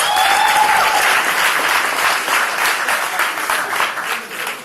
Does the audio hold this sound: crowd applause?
yes